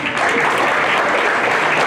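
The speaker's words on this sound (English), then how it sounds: "So give yourself a round of applause." Sustained applause from an audience at a school performance evening, dense and steady throughout, filling the room with no voices standing out.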